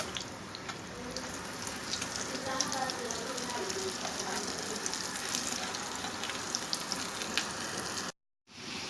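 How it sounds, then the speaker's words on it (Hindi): Beef shami kebabs fry in hot oil in a pan, giving off a steady, dense crackling sizzle that continues evenly and then cuts out briefly just before the end. "कबाब हम अब कर लेंगे फ्राई।"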